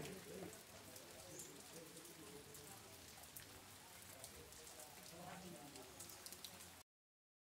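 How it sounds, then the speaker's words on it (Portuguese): Heavy rain pours steadily on a rural settlement in Nova Cruz, Rio Grande do Norte, in July, a dense, even hiss with scattered drops and faint birdsong, then stops abruptly. "volta a chover, graças a Deus. Bastante chuva."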